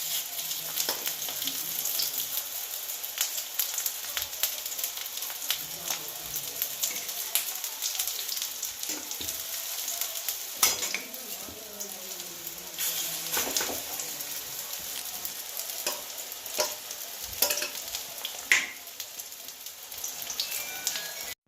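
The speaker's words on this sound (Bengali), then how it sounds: "সব ভেজে নিয়েছি সব কটা বড়া" Bengali prawn fritters (bhuso chingri bora) frying in hot oil, a steady crackling sizzle like light rain with occasional louder pops and faint stirring clinks, no talk.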